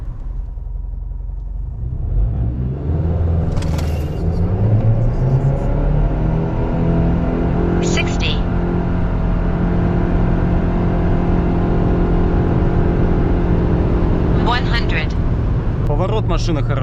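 A Subaru Forester SK5 with a 1.8 turbo engine drives through a bend, its steady engine hum and road rumble running continuously underneath a person talking inside the cabin.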